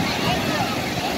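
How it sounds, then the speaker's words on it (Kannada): Strong sea waves break at Kapu beach near the lighthouse, a steady, loud, broadband roar of surf and wind that fills the brief moment without a pause. "ಇನ್ನು ಅಲೆ ಮಸ್ತ್ ಜೋರುಂಟು"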